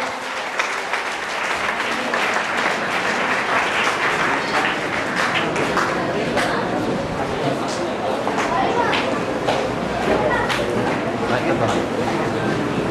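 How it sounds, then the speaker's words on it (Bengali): Sustained clapping from a crowd at an honouring ceremony, dense and steady throughout with some murmur and chatter underneath. "প্লিজ সবাই একটু করতালির মাধ্যমে একটু সহযোগিতা করেন।"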